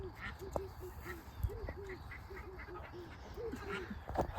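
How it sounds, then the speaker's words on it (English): Outdoors on a farm, a mother duck gives a run of short, repeated quacks in an uneven rhythm, fairly faint and a little distant. A few sharper clicks and knocks turn up among the calls. "the mom duck is out with her babies"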